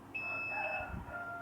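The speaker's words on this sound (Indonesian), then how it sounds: "Maka jam sholat akan berbunyi, ada bunyi bip, ya." A Khalifah Wi-Fi prayer clock gives a steady electronic beep to confirm its time sync with a smartphone, a clear tone held for about a second, close and alone without speech.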